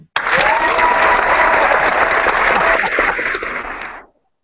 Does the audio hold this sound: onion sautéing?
no